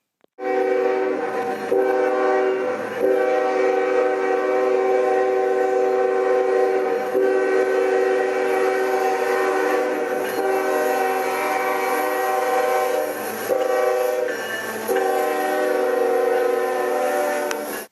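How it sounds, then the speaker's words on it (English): A Nathan K5HL locomotive air horn blares loud and near in long sustained chords, sounded in several blasts with brief breaks between them. "now let's hear an actual Nathan K5HL and see what that sounds like"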